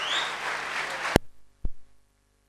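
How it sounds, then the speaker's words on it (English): Audience applause at the launch event of the Tata Xenon Yodha pickup, a dense burst of crowd clapping that cuts off abruptly after about a second, followed by two dull thumps. "let's give them a huge round of applause"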